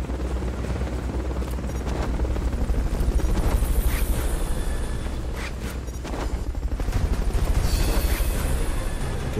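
Helicopter in the video game Metal Gear Solid Peace Walker, a loud steady rotor drone throughout with bursts of gunfire and booming explosions over it.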